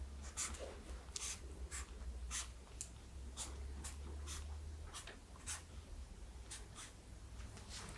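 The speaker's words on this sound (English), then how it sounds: "I'd like you to replicate that and draw that for me, please." A pen sketches a cube on paper during an ASMR neurological exam, its close, scratchy strokes coming in short repeated bursts over a low steady hum, with no talking.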